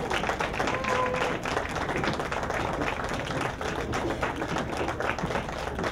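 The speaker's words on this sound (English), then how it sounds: "let's have a round of applause for these beautiful young ladies" Sustained applause from an audience at a fashion show for student models, dense and steady clapping that fills the room for several seconds.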